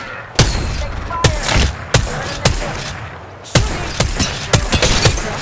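Gunfire in Apex Legends cracks loud and close in sharp separate shots and short bursts, about a dozen reports scattered unevenly across a few seconds.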